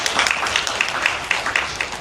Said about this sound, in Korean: 박수로 청해드립니다.